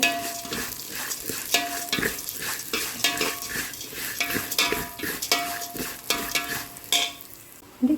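Cashews fry in a pan for carrot kheer, with a constant close sizzle broken by repeated scraping and clinking stirs of a spoon against the pan.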